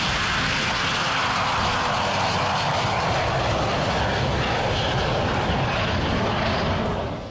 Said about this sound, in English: I slammed the throttle, the airplane jumped ahead, and 3 or 4 seconds later, I'm doing 100 miles an hour, and I'm airborne